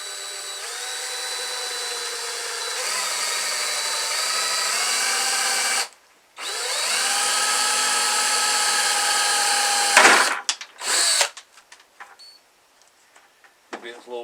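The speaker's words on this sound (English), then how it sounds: "we're going to drill a hole" A power drill bores a hole near the bottom of a plastic container for a homemade water filter, a steady high whine that runs, pauses briefly, resumes, then breaks into scattered clicks and handling noises.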